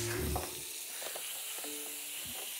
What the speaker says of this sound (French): en déglaçant les sucs restants au vinaigre balsamique